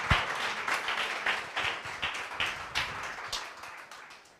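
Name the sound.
church congregation applauding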